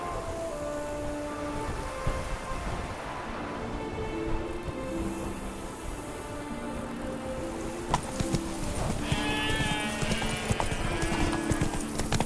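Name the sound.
horse galloping in The Witcher 3 video game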